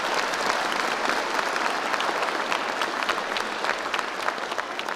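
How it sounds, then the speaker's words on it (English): An audience claps at a STEM graduation ceremony, steady and moderately loud applause from a sizable crowd that holds for the full five seconds, with no voice over it. "Let's please give these guests a big round of applause."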